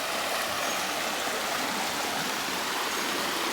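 Steady, broadband rushing of clear flowing water at Hindu temple ruins in Vietnam, continuous and fairly loud, with no voices or other distinct sounds.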